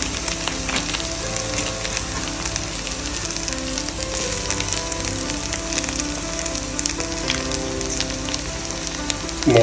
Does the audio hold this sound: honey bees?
no